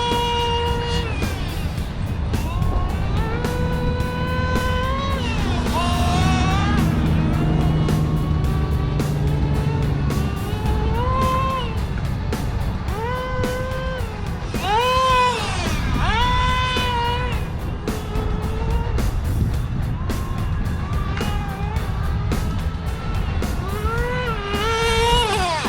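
HPI Nitro RS4 nitro RC car engine running, a loud high-pitched buzzing two-stroke whine that repeatedly revs up and drops back, sustained and close throughout.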